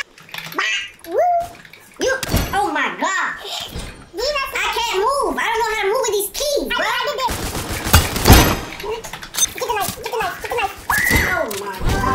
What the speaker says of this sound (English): Oh, somebody shooting at me.